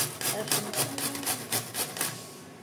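An unpeeled ingredient, cut on two sides, is rubbed across a grater in about eight even, rasping strokes, each a close, gritty scrape with short pauses between.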